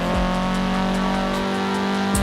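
An Audi TTS engine revs high toward its redline in the racing game Forza Horizon 4. The engine note holds loud and steady, with a brief pitch swoop near the end, alone without talk.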